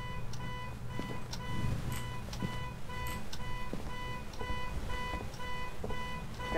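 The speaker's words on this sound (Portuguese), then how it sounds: "Acharam a chave do carro pra desligar o alarme." A car alarm in the Phasmophobia video game blares continuously with rapid repeating electronic beeps and tones, loud and steady with no talk over it.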